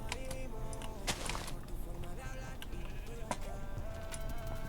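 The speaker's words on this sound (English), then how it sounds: "I hear my black sheep friend." A sheep bleats in a video game, several short bleats scattered among small ticking and clicking game sounds at moderate level, with no speech over them.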